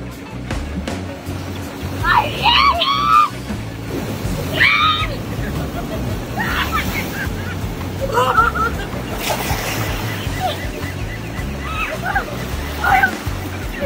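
Ocean waves slosh and wash around swimmers at a beach, a steady watery churn with splashes, while several people talk and shout over it.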